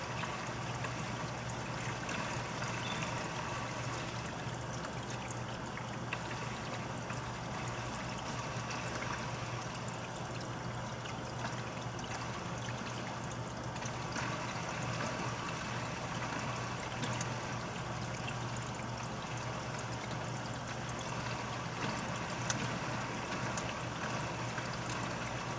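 Steady flow of water running through an ice cube machine being cleaned, a continuous even trickle and rush heard alone at moderate level for the whole stretch.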